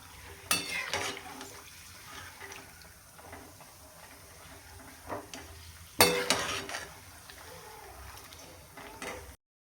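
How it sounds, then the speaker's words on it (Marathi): Grated coconut frying in a pan while masala is prepared, giving a soft sizzle with scraping stir strokes. Louder bursts of stirring come near the start and around the middle, and there is no talk. "तर बघू शकता खोबरं पण छान तळले, चांगलं तळून द्यायचं आहे"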